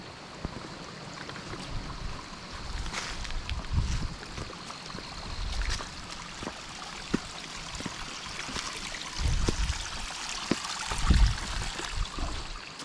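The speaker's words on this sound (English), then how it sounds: "So this is the stream I gotta cross to get to the shelter." A stream on the Appalachian Trail runs with a steady, moderate rush and trickle, its flow continuous across the whole stretch with occasional louder splashes and no talking.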